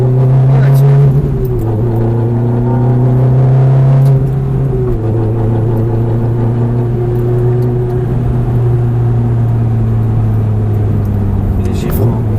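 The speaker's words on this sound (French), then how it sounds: "On accélère." A car engine drones loudly and continuously, its pitch dropping at a couple of gear shifts and then climbing steadily as the car speeds up.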